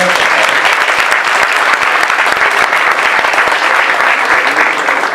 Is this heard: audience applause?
yes